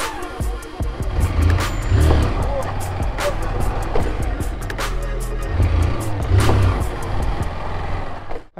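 A 160 motorcycle engine revs in repeated surges during wheelie practice, rising and falling at a steady level with clicks and rattles, while people talk over it.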